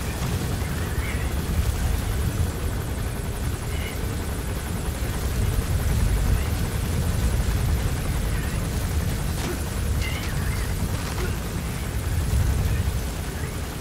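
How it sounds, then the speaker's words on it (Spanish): Helicopter passing overhead during a sandstorm in Metal Gear Solid V: The Phantom Pain, a steady, loud low rotor rumble under a dense broadband roar of wind that holds for the whole stretch. "el puto helicóptero está sobrevolando la ruta que yo iba a tomar"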